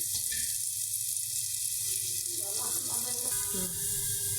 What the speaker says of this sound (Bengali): এই যে পেঁয়াজটা ভাজা হয়ে গেছে